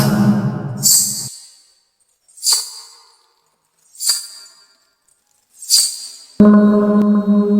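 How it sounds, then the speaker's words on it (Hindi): Several short, bright jingles of small anklet bells sound one at a time with silent gaps between, set between bursts of background music. "तभी अचानक पायल की आवाज।"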